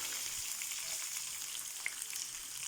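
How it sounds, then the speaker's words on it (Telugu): Onions frying in a pan with mustard and cumin seeds for ridge gourd curry, a faint, even sizzle and crackle with an occasional small pop; no speech. "ఉల్లిపాయలు వేసాను."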